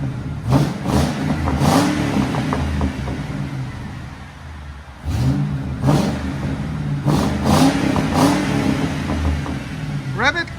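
A Ford Crown Victoria 4.6L V8 with Carven exhaust revs in two deep swells that rise and fall, loud and near, with a person talking over the engine.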